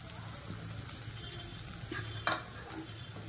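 Tapioca (cassava) pieces with salt being stirred and sautéed in a pan, a soft steady sizzle under scraping spoon strokes, with one sharper clink of utensil against the pan near the end.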